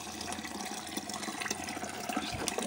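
Water drains out of a washing machine hose, a faint, continuous gurgling trickle with small splashes, alone without talk.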